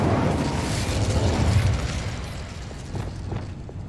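An Incendio fire spell is cast in a fantasy wizarding game, giving a loud whooshing burst of flame that rumbles and then tapers into a softer crackling roar, with no speech.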